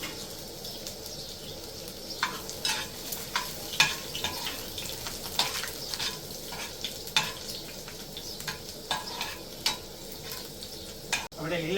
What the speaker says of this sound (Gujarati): તેલ ગરમ થઈ ગયું છે, આપણે પેલા આદુ એડ કરી દઉં.